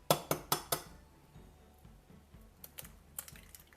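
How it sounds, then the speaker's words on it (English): An egg cracked into a pan while making a salad dressing: four sharp, close taps and cracks in quick succession at the start, followed by softer scattered clicks and light clinks against the pan. "first crack an egg into our pan"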